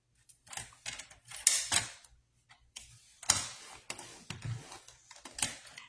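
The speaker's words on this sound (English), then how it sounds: "on the 12-inch side, we're going to make our first score line at 4." Paper being scored for a mini album folio, an 8 3/8 by 12 inch sheet creased along score lines, gives soft, close ticking scrapes and taps in short irregular bursts, quiet with no talk.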